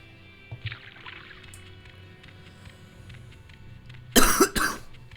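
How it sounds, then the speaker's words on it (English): A person coughs twice in quick, harsh bursts close to the microphone, breaking through a quiet ambient background near the end. "Again, sorry about all the coughing."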